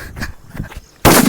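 A digital bomb firecracker goes off at Diwali as a sudden loud, harsh crackling burst at the very end, after a brief stretch of quieter background noise and faint voices.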